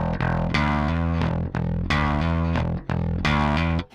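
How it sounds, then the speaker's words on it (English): A bass guitar runs through an Ampeg Scrambler bass overdrive pedal, playing a loud, distorted, raspy riff in short repeated phrases with brief gaps between them. "you're getting a little more of a raspy sound from the distortion"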